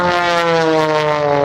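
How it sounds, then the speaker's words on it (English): A German-built, hand-built Extra 300S aerobatic airplane performs at an air show, its propeller engine giving a loud, steady buzzing drone with a strong harmonic whine, close by and constant, with no voices over it. "Patty's airplane is a German-built, hand-built, extra 300S."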